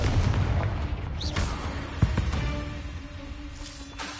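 The Confringo fire-blast spell goes off in the video game Hogwarts Legacy as a muffled boom with a sharp crackling burst, set among rumbling low battle noise and a few faint whooshing effects.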